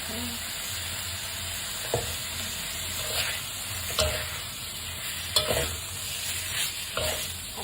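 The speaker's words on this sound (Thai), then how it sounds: "ใส่หมูสับลงไปผัดเลย" Minced pork sizzling and stir-frying in a hot pan, a steady bright hiss punctuated by several sharp scrapes and clinks of the spatula stirring, close and continuous, with no talking.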